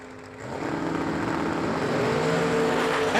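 A small-block-powered Chevy Nova and another drag car launching at a drag strip, a loud sustained engine roar that swells as they pull away, with no talk over it.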